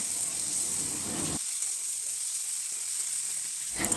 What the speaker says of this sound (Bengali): সব কিছু পরিমাণ মতো দেওয়া হয়ে গেলে মশলাটাকে ভালোভাবে কষিয়ে নিতে হবে।